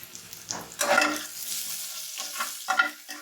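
Onion, cinnamon, cardamom and bay leaf frying in hot oil for a chana dal beef curry, a steady close sizzle with scraping stirring strokes rising and falling over it, no voices.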